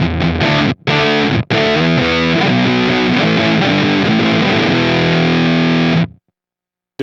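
Gated fuzz pedal on electric guitar set to a brighter tone, loud buzzy chords with two sharp gated breaks early on, then a sustained ringing passage that cuts off cleanly.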